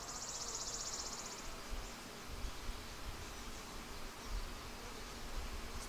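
Honey bees hum steadily around a Flow Hive during a fall harvest, a faint continuous buzz with outdoor background noise and no talking.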